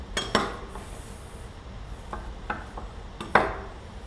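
A knife cuts open a crispy oven-baked handmade meatball on a plate: scattered close clinks and scrapes of metal on crockery, a sharper knock near the end, quiet between strokes and without speech.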